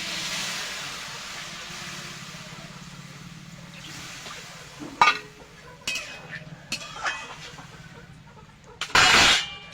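A cooking pot of star fruit chutney being covered, with a hiss of simmering water followed by several metallic clinks of a lid and utensils against the pot, the last one loud and close.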